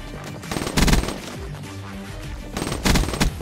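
Automatic gunfire from a weapon in Call of Duty, with two loud dense bursts of rapid shots separated by quieter game sound and no talking.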